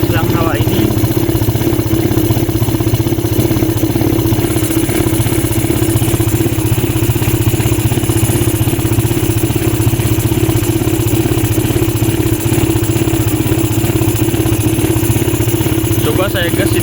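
An automatic scooter engine idles steadily throughout, a close, continuous low drone with a fault that makes smoke puff from the breather hose; it runs alone with no talk over it.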